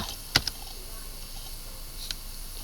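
A few sparse clicks and keystrokes on a computer keyboard while entering an Excel formula, two sharp close taps near the start and another soft one later over a quiet room hum.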